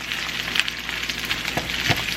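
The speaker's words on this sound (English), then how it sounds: "Okay, I'm browning it. You see it's browning." Sliced, pre-cooked gyro meat (two packs' worth) browning in a pan, giving a steady, close frying sizzle with a few small pops and crackles scattered throughout.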